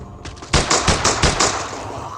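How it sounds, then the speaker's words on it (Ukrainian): Gunfire from the video game Zombie Invasion, where zombies are being shot: a quick burst of about six sharp, evenly spaced shots, loud and close, with no talking over them. "Так, Ми можемо їх, друзі, стріляти."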